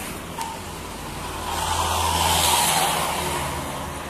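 A heavy bus engine rumbles and swells as a DMH Trans bus passes nearby in traffic, the roar building in the middle and then easing off.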